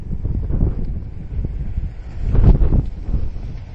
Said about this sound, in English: it's safe to say it's windy.